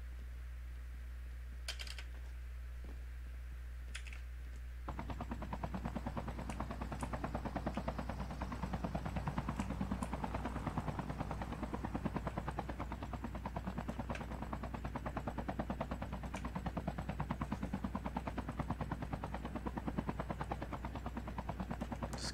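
Steady low helicopter rotor hum in Call of Duty: Mobile runs throughout, joined after a few seconds by dense, rapid clicking and crackling that continues to the end.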